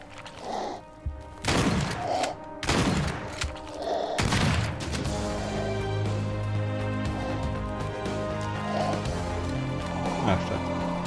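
Several loud gunshot blasts from a weapon in the survival-horror video game Daymare 1998. They come in bursts through the first four seconds, then give way to a steady game soundscape with music, and a voice is heard briefly.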